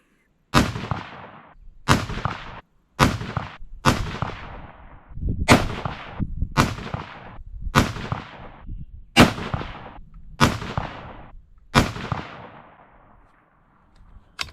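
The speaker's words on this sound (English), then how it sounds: "We're gonna shoot another 10-shotter." A rifle fires a string of ten sharp, loud shots at a range, one roughly every second or so, each followed by a short echoing decay, with no speech.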